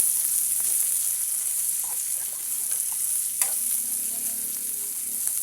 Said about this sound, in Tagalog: Igisa din natin ang lara.